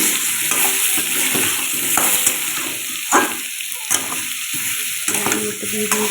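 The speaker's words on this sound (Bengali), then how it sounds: "এটাকে ভালো করে ভেজে নেবো আলু আর কুমড়োটাকে।" Potatoes and pumpkin fry in hot oil with turmeric, stirred steadily in the pan, giving a continuous close sizzle broken by repeated scraping strokes of the spoon.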